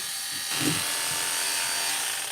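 A steady electric buzz of hair clippers with a loose socket running, with a slightly uneven rattle in the hum, fairly loud and continuous throughout.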